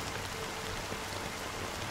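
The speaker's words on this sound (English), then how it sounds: "But it's still raining." Rain falls in the video game Honkai Star Rail, a soft, even patter of drops on surfaces that continues quietly throughout with no talking.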